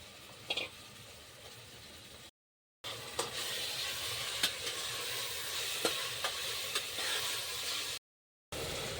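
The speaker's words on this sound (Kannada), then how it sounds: "ಈಗ ಚಂದನತ್ತ ನೋಡ್ರಿ ಕೀಮಾ ಫ್ರೈ ಆಗ್ಯದ್ರಿ ಎಣ್ಣೆ ಎಲ್ಲ ಚಂದ ಈಗ ಮ್ಯಾಕ್ ತೇಲಾಡಕತ್ತದ" Mutton keema and chops frying in oil in a pan, a continuous crackling sizzle with occasional scrape and clink of a stirring spoon, steady and close, with two brief silent gaps.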